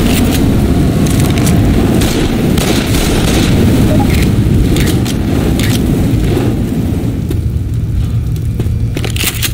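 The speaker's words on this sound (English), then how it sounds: "Fire's coming!" Molotov cocktail fire in Left 4 Dead 2, a loud, steady roaring crackle of burning flames with sharp snaps and pops scattered over it, sustained and without speech.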